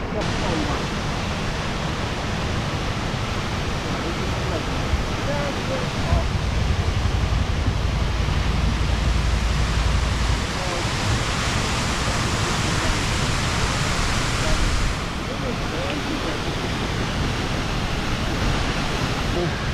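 A steady, loud roar of a waterfall at Alkefjellet, Svalbard, fills the whole clip, a continuous broadband wash with a person talking faintly beneath it partway through.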